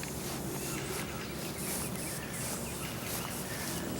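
Honeybees swarm in large numbers around flowering Virginia mint outdoors, a soft continuous buzzing hum with no voices, thin and fairly faint beneath steady outdoor ambience.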